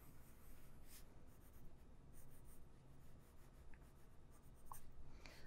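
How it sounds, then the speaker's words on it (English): A pencil scratches steadily across paper while sketching wheels on a futuristic car design, a close, soft continuous rasp with small rhythmic strokes and no talking. "Maybe I start to fill in some wheels."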